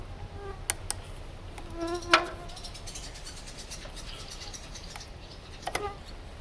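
Flies buzzing close by outdoors at a barn, short whining passes that come and go against a quiet background.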